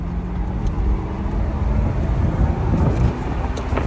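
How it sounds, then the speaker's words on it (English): A 2006 Cadillac XLR convertible cruises along, heard from inside as a steady low engine and road rumble with wind noise, fairly loud and continuous, with no talking. "this will be my last time driving the 2006 Cadillac XLR convertible"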